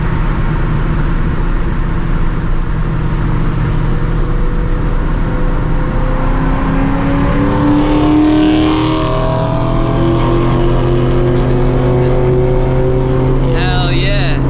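Supercharged 2V Mustang GT engine roaring past in a flyby at night, rising and falling as it sweeps by, loud and steady with a low rumble throughout.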